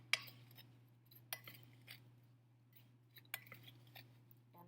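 Sliced strawberries and rhubarb tossed with sugar in a bowl, giving faint, sparse clinks and soft scrapes spaced a second or so apart over a steady low hum.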